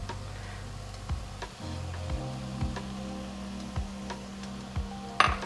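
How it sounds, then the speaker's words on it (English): A spoon steadily stirs spinach artichoke dip ingredients seasoned with garlic powder, cracked black pepper, parsley and scallion in a bowl, making soft rhythmic scrapes about twice a second, close and fairly quiet, ending with a brighter knock. "Mix everything up."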